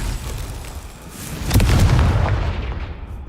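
Blasting spell Confringo explodes in Hogwarts Legacy with a sudden loud boom midway, preceded by a low rumbling bed and followed by a long, decaying roar, with no one speaking.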